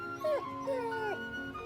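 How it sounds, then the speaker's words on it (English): A dog whimpers and yips close by, with high, wavering whines that rise and fall in two or three short bursts against a faint background hum. "Dogs."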